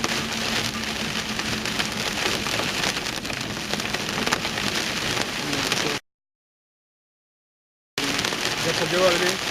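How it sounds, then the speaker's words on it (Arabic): Heavy rain pours down during a thunderstorm with hail on a road, a dense, loud, continuous hiss of drops on surfaces, briefly cut to silence before resuming. "مطر، قوة انهمار، مطر منهمر"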